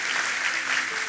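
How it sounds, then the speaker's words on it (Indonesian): Church congregation breaks into a brief burst of loud, dense applause, steady and close throughout. "Saudara yang mau coba beri tepuk tangan yang meriah."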